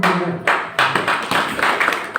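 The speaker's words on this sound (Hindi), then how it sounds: "जब ताली बजाना है तो ढंग से बजाओ" An audience at a spiritual discourse on the Mahabharata claps hands, loose bursts of applause in several waves close by, with no talk.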